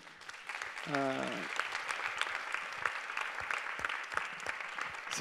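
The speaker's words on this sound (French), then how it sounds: "Corentin, Miranda, on vous remercie beaucoup, on peut les applaudir eux aussi." Audience applause fills a hall at the Web2day 2019 grand final, a dense, steady wash of many hands clapping that holds throughout, with a brief voice calling out near the start.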